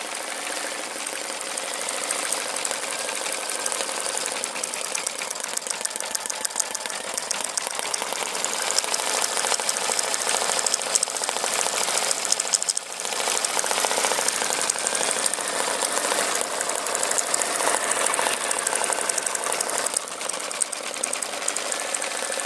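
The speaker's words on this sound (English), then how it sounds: "I'm stitching it out in a gold metallic thread" An embroidery sewing machine stitches out a design in gold metallic thread, giving a steady, fast mechanical whirr with rapid needle clatter that runs continuously and close by, with no talking.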